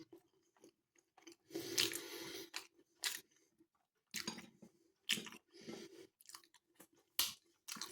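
Someone chewing a sub roll filled with Spam, mushrooms and grated cheese, with close, wet bursts of munching and crunching broken by short quiet gaps.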